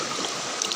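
A river flows with a steady close wash of moving water, an even broadband rush over less than a second, no voices.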